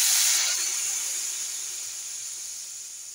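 Hot water is poured into a pan of taro curry cooking on a gas stove, and it makes a sharp, loud sizzling hiss that gradually fades over about three seconds.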